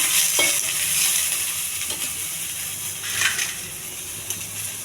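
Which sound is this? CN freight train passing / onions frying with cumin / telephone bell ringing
onions frying with cumin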